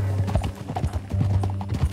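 A horse's hooves clip-clop in a steady trotting rhythm in Red Dead Redemption 2, close and clear over a low hum of ambient game sound.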